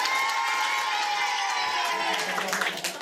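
A French eloquence-contest audience cheers and applauds for a national team-debate champion, a dense, loud wash of crowd noise with shouts and a sustained tone running through it, close and steady throughout.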